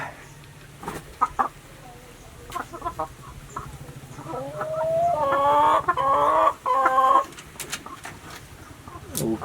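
Laying hens in a backyard coop built from old materials cluck and coo; scattered soft calls build into a louder, busier run of clucking near the mic before tapering off.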